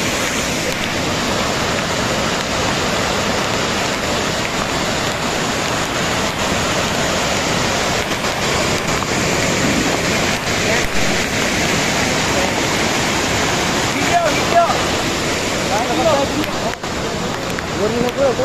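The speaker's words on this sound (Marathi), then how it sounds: "बघा किती इतकं जोरात पाणी येत आहे ना" A waterfall at Lonavala in the monsoon rain, a steady, loud, broadband roar of rushing water that runs unbroken throughout, with faint voices beneath it.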